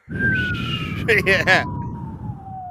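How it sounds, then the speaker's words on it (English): A long, thin whistle tone slides slowly downward from start to finish, joined midway by a brief burst of brighter warbling tones, with muffled talk underneath. "I need a whistle sound for when a joke bombs"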